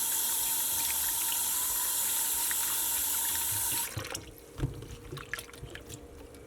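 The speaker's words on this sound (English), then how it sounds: "I'm gonna put some water just to wash it a little bit, clean it a little bit." Cold tap water runs steadily and loudly over shrimp, then cuts off, leaving scattered drips and splashes as the shrimp are shaken in the wet sink.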